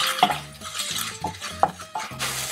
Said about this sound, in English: So everything is mixed with the sauce.